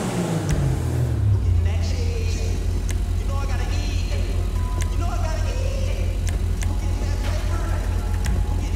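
A car engine drones steadily in the video game GTA 5 as the car is driven, a constant low rumble running throughout with people talking over it.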